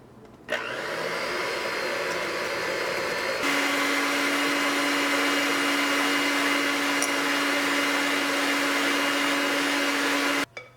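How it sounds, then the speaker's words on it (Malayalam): Electric hand beater whirring steadily at medium speed while mixing banana cake batter, a loud continuous motor hum that steps up in pitch partway through and runs alone until it cuts off near the end. "അത് കഴിഞ്ഞിട്ട് ഒരു മീഡിയം സ്പീഡിലിട്ടിട്ട് ബീറ്റ് ചെയ്തെടുക്കുക."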